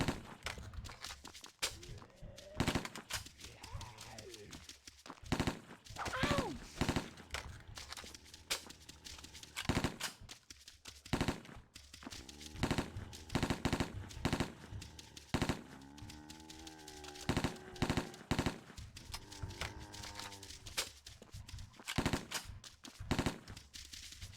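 Gunfire in an online zombie shooter video game: rapid repeated shots and bursts sound throughout, mixed with footsteps and game effects, fairly quiet overall.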